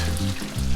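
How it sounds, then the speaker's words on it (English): Sausage sizzling and crackling in a hot pan, a brief close burst of frying with a low background hum. "Next, I'm gonna add my sausage. Ooh, hear it going."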